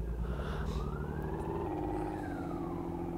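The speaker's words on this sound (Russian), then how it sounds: "Уже слышу, уже сирены полицейские слышу." A police car siren rising and falling in the driving game City Car Driving, fairly faint and distant over a constant low engine drone, with no speech.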